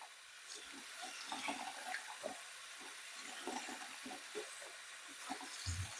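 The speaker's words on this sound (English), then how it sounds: "we're going to take it into the bathroom and just rinse it out real good and wring it out multiple times" Lukewarm tap water runs steadily into a bathroom sink while foam is rinsed and wrung out, a continuous close splashing rush with occasional louder gurgles and squelches.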